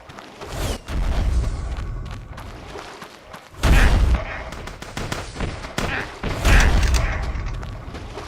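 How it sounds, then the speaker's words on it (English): A bazooka fires in Block Fortress, with heavy booming blasts in two or three bursts against enemies, each followed by rumbling decay, set against a game soundscape. "the bazooka is killing the enemies"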